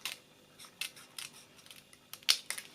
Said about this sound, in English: I just make a rounded leaf there and I just cut off these bits